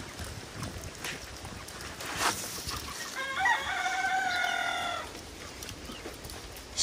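A turkey calls in a short burst of warbling, gobbling notes over a steady background hum, with no one talking.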